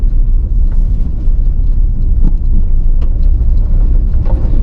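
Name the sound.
stock 2024 Toyota Tacoma four-cylinder truck driving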